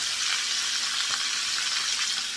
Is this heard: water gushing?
no